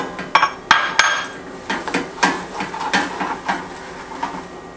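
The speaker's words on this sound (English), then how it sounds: "The next thing I'm going to do is add the 1 cup of oats to the pan, and you're just going to mix this really well." Oats are stirred into a peanut butter mixture in a pan, giving repeated knocking and scraping clatters of a utensil against the pan in an uneven rhythm, close and fairly loud, with no speech.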